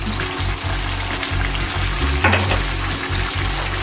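Beef stroganoff bubbles and simmers in a pan over medium heat, a loud, constant sizzle with low bubbling pops and a brief stirring scrape near the middle, and no one speaking.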